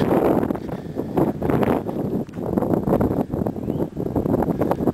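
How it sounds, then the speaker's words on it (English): Strong gusty wind roars and buffets the microphone in waves in a New Jersey Pine Barrens cemetery, a loud continuous rush with no talking. "It's getting really windy."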